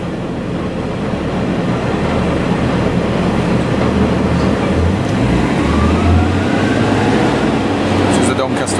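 A train runs along a railway line near Doncaster between Hexthorpe and Bentley Junction, a loud, steady rumble with rail noise lasting throughout and no speech.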